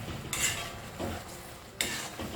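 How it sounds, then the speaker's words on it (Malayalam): A spatula scraping and stirring Kung Pao chicken in a hot pan, three quick metallic scrapes over a soft sizzle, close and clear. "നന്നായിട്ട് ഇളക്കി കൊടുക്കുക."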